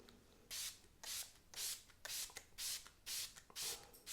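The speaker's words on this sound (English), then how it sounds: "This is the Smashbox Photo Finish Weightless Setting Spray." Smashbox Photo Finish Weightless Setting Spray spritzed from a pump bottle: about eight quick, soft, hissing bursts in a fairly even rhythm, close and quiet, with no talk.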